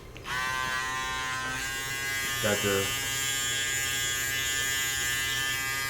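A close Andis ReSurge electric shaver with a plastic body and rubber grip buzzes steadily at a high pitch after switching on, with a brief spoken remark partway through.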